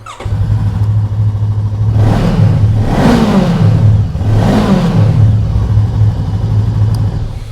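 A Voge 500 DSX motorcycle idles steadily, then its engine is revved twice in strong, rising bursts that fall back to idle, loud and close with no talk over it.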